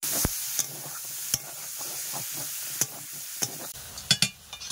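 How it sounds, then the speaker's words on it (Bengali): Prawn legs stirred in a hot wok over a steady sizzle of frying, with a handful of sharp scraping clicks from the spatula spaced irregularly throughout, close and fairly quiet. "এগুলো নাড়াচাড়া করে ভালো করে।"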